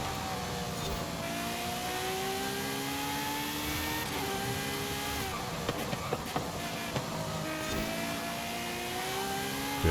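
A car engine hums steadily while driving on slick tires during a Forza Horizon 5 street race, revving up and down through gear changes at a constant loud level with no speech.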